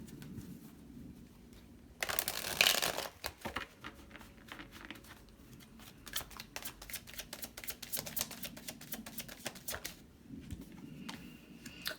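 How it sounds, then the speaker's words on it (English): Quiet riffling and flicking of tarot cards being shuffled by hand, a louder burst of rapid card slaps early on followed by irregular soft taps and rustles, close and faint with no talking. "One more shuffle."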